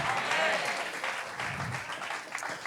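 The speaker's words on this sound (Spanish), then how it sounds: "Denle su mejor aplauso, por favor." Audience applause in a church service, steady broadband clapping from a crowd filling the whole stretch, moderately distant and even in level.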